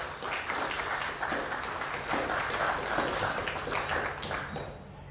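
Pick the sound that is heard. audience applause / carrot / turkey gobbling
audience applause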